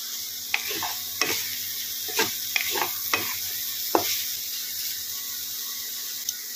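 Capsicum is tossed into a pan with cooking chicken and stirred. Sharp spoon scrapes and clacks land at irregular intervals over a soft steady sizzle, close by, with no one talking.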